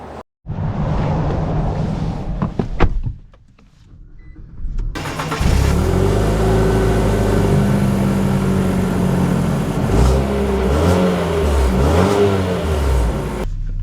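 A 2024 Infiniti QX55 Lux SUV idles, then rumbles steadily as it drives off, the engine note rising and falling through gear changes with a constant close drone and no talk.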